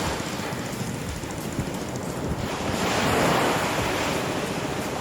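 Sea waves wash onto the shore while someone walks along the beach, a continuous close surf roar mixed with wind buffeting the microphone and a swell rising midway.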